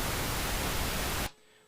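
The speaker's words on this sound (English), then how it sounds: "Pink Noise has like pretty much the entire spectrum of sound in this staticky kind of sound that you hear" Pink noise played back through studio speakers in a room with a bass trap, a loud, steady broadband hiss that cuts off abruptly near the end, leaving quiet room tone.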